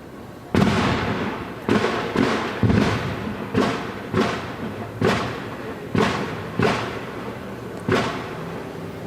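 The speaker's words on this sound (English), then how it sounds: "obviously those are what are known as flashbangs" SWAT team flashbang grenades detonating during entry into a home, a series of eight sharp booming blasts spaced about a second apart, each followed by a short rumbling decay, heard from some distance.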